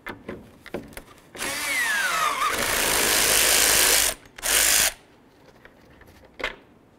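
A power tool spins out 10 mm headed bolts on a 2007-14 Ford Edge during radiator removal, with a long buzzing whir followed by a second short burst and faint clicks of handling around it.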